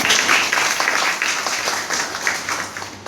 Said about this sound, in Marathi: माझी तुम्हा सर्वांना विनंती असेल की सरांसाठी एकदा जोरदार टाळ्या वाजवा.